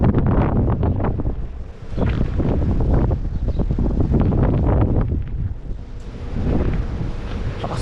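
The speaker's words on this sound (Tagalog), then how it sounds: "Lakas ng hangin." Strong New Zealand wind roaring and buffeting a nearby microphone in heavy gusts, loud and continuous with no speech.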